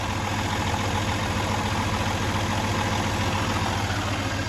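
A truck engine idles steadily and loudly close by, a smooth, even low rumble with constant vibration throughout and no voices.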